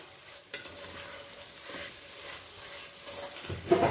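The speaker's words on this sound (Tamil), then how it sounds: "நல்லா தக்காளி வந்து வெந்து மசிற அளவுக்கு வச்சுக்கலாம்." Tomatoes cooking down in a pan for vegetable biryani give a soft, fairly quiet sizzle with a few faint scrapes and clicks and a louder stir near the end, with no talking.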